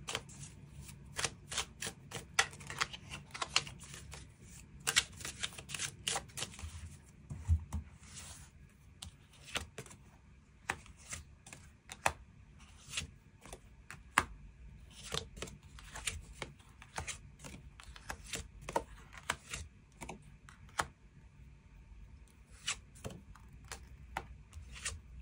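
Tarot cards being shuffled and drawn, with bursts of rapid crisp riffling and flicking followed by scattered single snaps and slides of cards, close and quiet with short pauses between.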